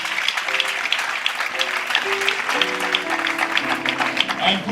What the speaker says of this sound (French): Put your hands together for the elders in the house.